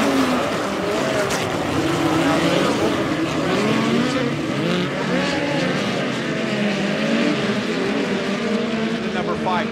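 POWRi midget race cars at speed on the Valley Speedway dirt oval, several engines loudly snarling and rising and falling as they pass, continuous and dense throughout, under a voice talking.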